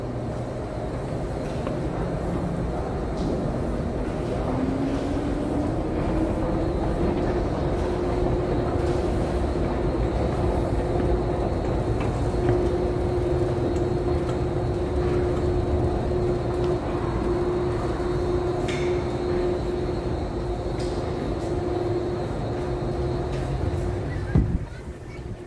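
A Montreal metro train rumbles steadily nearby with a low mechanical drone and a rising tonal whine, continuing for the whole stretch.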